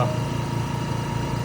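A compressor in a Peak Scientific nitrogen generator runs with a steady close mechanical hum and fine rhythmic vibration, constant in level, with no voices.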